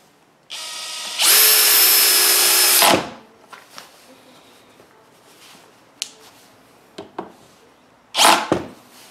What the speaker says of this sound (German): Stufe 7 braucht man für die erste Schraube zum Versenken.